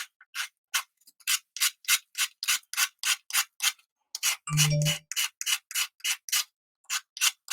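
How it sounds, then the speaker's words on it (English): A painted cell phone stand being sanded by hand to remove paint, heard as a close, steady series of short rhythmic rasping strokes, roughly two per second, with a brief low thump partway through. "I think what I want to do is just sand some of that paint off of there."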